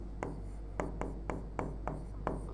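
Notes being written by hand, a soft steady scratch of pen on paper broken every half second or so by small taps as strokes start, close and alone over a low hum.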